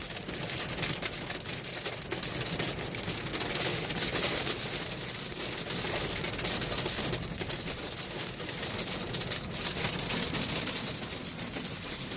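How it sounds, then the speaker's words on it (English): Hail pelting down outdoors in nasty weather, a dense, steady hiss of pellets striking surfaces that fills the whole stretch without pause, loud and close with no voices. "I'm getting pelted by hail here."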